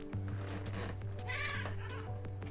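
A cat meows in a visual novel game scene, a short mewing call over a steady background music track with a low hum.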